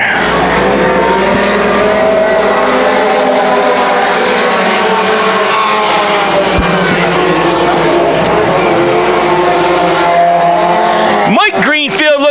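Race cars roar at full throttle past a speedway at the green-flag start of a Thunder Speedway event, a loud continuous engine drone with a public-address announcer calling the race over it.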